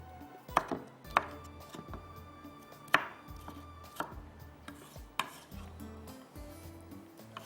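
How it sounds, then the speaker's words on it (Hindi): A knife chops onion on a cutting board in a kitchen, a handful of irregular, fairly quiet knocks with soft clatter between them and no talk. "इसको थोड़ा सा मैं चॉप कर लेती हूँ"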